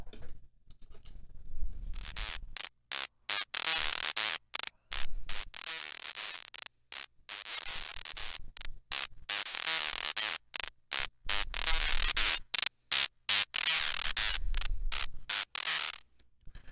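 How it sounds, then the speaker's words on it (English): Harsh, crackling distortion from a synthesizer's spike output through a Portal effect, bursts of buzzy noise chopped into rapid irregular stutters with brief silences between them, loud and abrasive throughout. "Let's see what the spike output sounds like."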